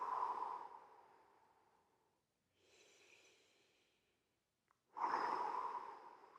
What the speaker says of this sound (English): 3 big breaths in and out.